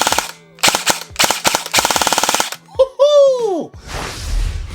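Specna Arms SA-H06 M ONE airsoft rifle firing BBs in several loud, close bursts of rapid mechanical clatter, each a tight string of snaps, followed by a person speaking.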